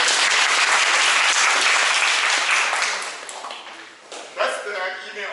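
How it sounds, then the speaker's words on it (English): Students in a university lecture on electrostatics clap their hands in a loud, dense burst that fades after a few seconds, followed by a voice speaking. "You should clap your hands."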